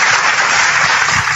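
Dense, steady applause from an audience at a church talk, a broad wash of clapping hands filling the whole stretch without pause or speech.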